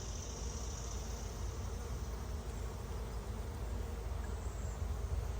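Honeybees buzz during a July hive inspection, a dense, steady drone of many bees close by, continuous and fairly soft with no talk over it.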